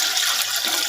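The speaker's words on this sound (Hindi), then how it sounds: "2 लीटर पानी डाल लेंगे" Water pours into a pot of karhi pakora, the yogurt and gram flour curry, in a steady broadband splashing rush that is close and loud and lasts under a second.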